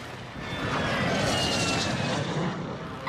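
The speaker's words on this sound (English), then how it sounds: "Requesting recon flyover." A recon UAV aircraft flyover in a Call of Duty match on Ashika Island sounds as a steady, loud engine drone that swells and holds for about three seconds with no talk over it.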